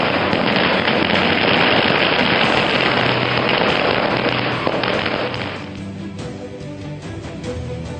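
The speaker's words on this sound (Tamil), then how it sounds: "பட்டாசு வெடித்து கொண்டாடிய அலங்காநல்லூர் மக்கள்." Firecrackers burst in a dense, continuous crackling roar during a celebration by townspeople at Alanganallur, loud for several seconds before thinning into scattered, quieter pops.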